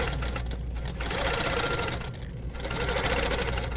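A Handi Quilter sewing machine stitches steadily along a quilting ruler, a rapid mechanical hum and patter running continuously with short pauses.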